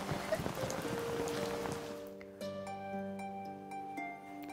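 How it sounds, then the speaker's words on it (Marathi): Rain hisses steadily for a couple of seconds, then fades beneath sustained musical tones. "पाऊस बी वाढलाय"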